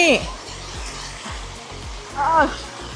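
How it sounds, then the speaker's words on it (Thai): Hot mineral spring water flowing outdoors at a forest hot spring, a steady broadband rush of running water close by, with a voice speaking over it at the start and again near the end. "นี่ น้ำแร่ น้ำร้อนไหลมาตรงนี้"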